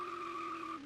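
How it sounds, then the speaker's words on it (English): A single short, synthetic tire skid from an indie driving game, a tonal squeal that holds steady for under a second and then cuts off, clear and alone. "no matter how long I skid for, it's just playing that one skid sound."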